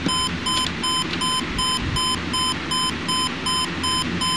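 The alarm buzzer of a Craig CR-4100U stereo receiver beeps in a steady, rapid pulsing pattern of evenly spaced tones, alone and fairly loud throughout.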